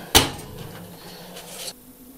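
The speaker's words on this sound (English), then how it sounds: "let's turn the oven off. Close the door." An oven door closing in a home kitchen after baking ginger flapjacks: one sharp thud near the start, followed by a short, faint rattle and a low fan hum that stops.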